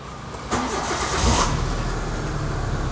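Engine of a 2012 Hyundai Avega GX automatic cranks and catches, then settles into an even idle, close and moderately loud with no talk.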